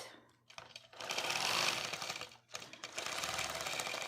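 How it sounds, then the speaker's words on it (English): A sewing machine restitches areas of a quilt, its rapid mechanical stitching running steadily and close, broken by a brief pause near the start and again midway. "I go back and I restitch some areas to make sure that this quilt is quilted throughout the whole quilt."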